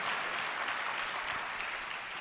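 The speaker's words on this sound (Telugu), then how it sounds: "నమ్మిన వారు గట్టిగా చప్పట్లు కొట్టి దేవుని ఆనమయింపరచండి." A church congregation applauding together, a dense, steady wash of many hands clapping that holds evenly for a couple of seconds with no voices over it.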